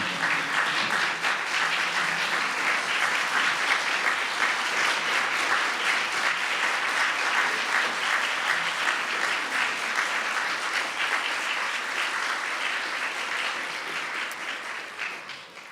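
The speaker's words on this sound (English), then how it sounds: "please join me in giving a rousing round of applause for the 2015 recipients of the Altria College Opportunity Fund" Long, dense round of applause from a luncheon audience honoring scholarship recipients, a sustained crowd of many hands clapping steadily for over fifteen seconds before gradually thinning and fading at the end.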